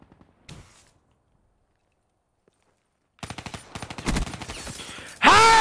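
Bursts of rapid automatic gunfire in a Black Ops 3 multiplayer match, starting after a quiet stretch and building into dense, punchy volleys, ending with a loud close blast.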